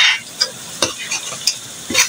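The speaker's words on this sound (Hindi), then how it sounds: "टमाटर डाल के मैं इसे अच्छे से भून लूँगी ताकि टमाटर गल भी जाए और घुल भी जाए इस मसाले में" Tomatoes fry in a spice masala in a pan, with a soft sizzle under a run of scraping, clattering strokes from a stirring spoon, each stroke short and close, spaced roughly every half second.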